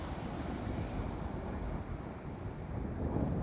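A strong wind storm sweeps the seafront in Alexandria, a dense, unbroken roar of gusts buffeting the microphone and surf churning, steady and loud throughout with no voices.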